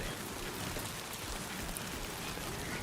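Rain patters steadily on surfaces outdoors during deliveries, a faint, even, dense wash of drops with no voices.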